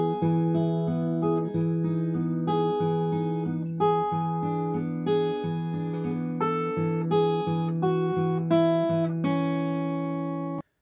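An acoustic guitar fingerpicks the first half of the riff from a song at full pace, with a thumbed bass note under plucked upper strings in a steady ringing pattern, close and unaccompanied.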